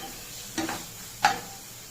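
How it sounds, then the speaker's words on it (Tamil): Tomatoes and onions sautéing in a pan for pakoda kuzhambu give a low, faint sizzle, broken by two short stirring clacks of a spoon against the pan, with no talk. "தக்காளியும் வெங்காயமும் நல்லா வதங்கிடுச்சு. தக்காளி மட்டும் இன்னும் கொஞ்சம் வதங்கணும்."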